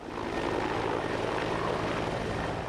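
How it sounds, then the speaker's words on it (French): A steady, loud police helicopter rotor roar fills the air overhead with a throbbing low pulse, constant and unbroken throughout, above a wooded area. "L'hélicoptère de la Sûreté du Québec a survolé pendant des heures le lot boisé"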